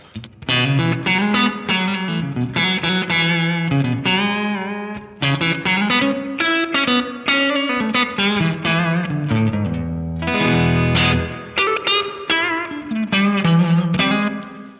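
Electric guitar, a Stratocaster through a Blackstar St. James EL34 tube amp head, playing a melodic line with heavy effects and distortion, loud and sustained, with chorus-like shimmer and short breaks between phrases.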